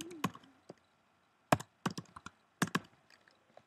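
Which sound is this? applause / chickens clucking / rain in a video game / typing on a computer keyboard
typing on a computer keyboard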